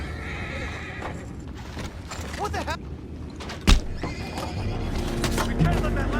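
Horses in the video game Red Dead Redemption 2 whinny and neigh, with hooves clip-clopping through the scene over ambient game noise. A voice speaks briefly partway through.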